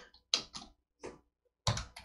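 Keys clack on a computer keyboard as commands are typed at a Linux MySQL prompt, giving a few sparse, quiet, close clicks in uneven bursts with silence between them.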